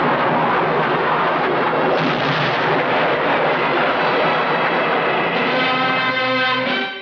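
A helicopter roars loudly and continuously in the climax scene of the Hindi action film Suhaag, a dense engine-and-rotor wash with a pulsing rotor tone emerging toward the end.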